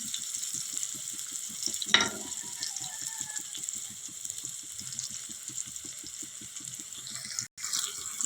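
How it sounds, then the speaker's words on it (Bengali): Onions and tomatoes fry in a pan with a steady, close sizzle. Soft rhythmic ticking runs underneath, and a brief scrape stands out near the start. "একটু ভাজা হতে দেব।"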